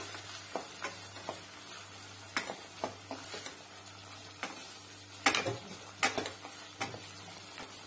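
Soya pulao ingredients sauté in oil in a pan, with a low sizzle under irregular spoon scrapes and clinks against the metal, some louder strokes clustering toward the end.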